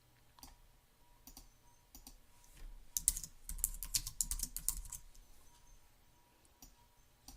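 Typing on a computer keyboard, bursts of quick soft key clicks that thicken into a dense flurry in the middle before thinning out again, close and fairly quiet, with no talking.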